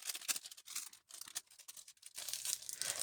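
A small gift card envelope made of paper is torn open up close, with soft crinkling and quick ripping bursts broken by brief pauses, quiet and without any talk.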